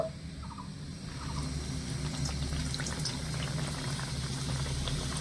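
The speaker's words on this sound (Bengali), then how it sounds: "এবারে এই আলুর পরোটা দিয়ে আমি ভেজে নেব" Potato paratha fries in a pan of hot oil, giving a soft, steady bubbling sizzle that swells slightly after the first second and then holds at a low, even level with no talking.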